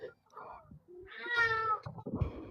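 A female pet cat gives a drawn-out, announcing meow as she brings over one of her toys. The meow is clear and close amid brief human chatter.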